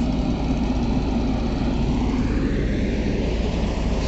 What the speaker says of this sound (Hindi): देखिए आ चुका है हमारा जेसीबी हमारे इस फंसे हुए ट्रैक्टर को निकालने के लिए।